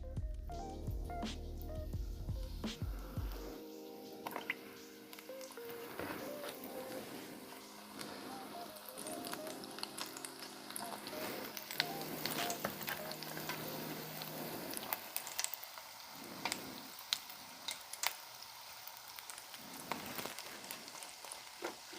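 Cheesecake-stuffed donuts frying in hot oil give a steady, dense sizzle and crackle that carries on throughout, with close-up bubbling and occasional louder pops.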